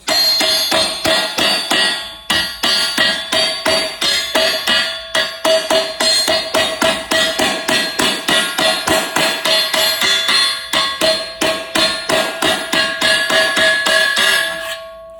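Rapid, steady hammer blows ring out on sheet metal while an inner rocker panel on a Ford Edge is straightened and smoothed, loud and close, a dense metallic rhythm running almost without pause and without talk.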